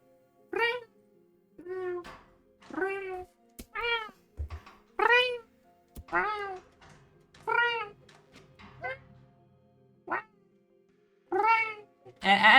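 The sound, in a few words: person imitating a cat meowing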